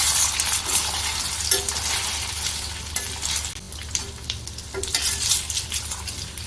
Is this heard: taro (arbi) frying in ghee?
yes